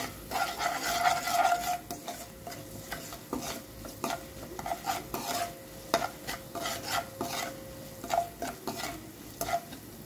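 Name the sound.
stirring spiced onion mixture frying in pan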